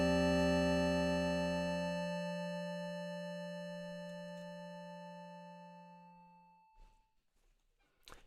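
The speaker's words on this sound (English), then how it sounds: "each time we're going to add a new synth to the array by playing our function and providing some randomly selected value for each one of these" Twelve randomly pitched SuperCollider sine-like synth tones sound together as one sustained chord, fading away gradually, with faint clicks at the end.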